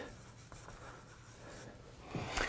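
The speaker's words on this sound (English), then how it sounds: "So let me write that in. Philosophy." Chalk or marker rubs and scratches across a board as the word philosophy is written, a soft continuous scraping with short strokes and a sharper tap near the end, close and alone.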